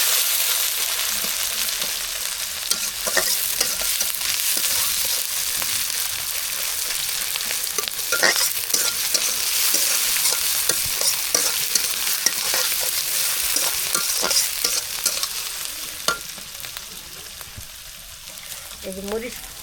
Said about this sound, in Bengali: ভাজিটা কুটানে রসুন, পেঁয়াজ, কাঁচামরিচ দিয়ে দিই